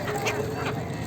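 Siberian gulls being fed from a boat on the Ganges give two short, harsh calls that rise over steady background noise from water and a motor.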